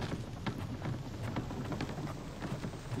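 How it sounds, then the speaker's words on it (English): Steady rain falls across a daytime scene in The Infected survival game, a dense continuous hiss with soft patters and low rumbling throughout, with no voices. "And it's raining."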